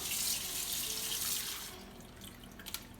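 Tap water runs steadily into a sink while a Thanksgiving turkey is rinsed out, a continuous close splashing that eases off after a second and a half, leaving a few louder drips and splashes.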